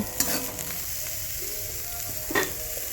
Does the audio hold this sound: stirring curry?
yes